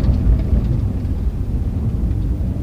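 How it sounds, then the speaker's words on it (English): A 2020 Porsche 911 downshifting in manual mode on a bumpy road, heard as a loud, continuous low engine rumble with rising and falling revs and no talk. "Listen to those downshifts"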